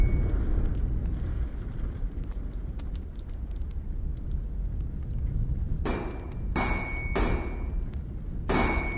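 Several short, sharp hammer strikes on wood in the video game Rec Room, coming in a loose cluster of four toward the end over a steady background hum, with no talking.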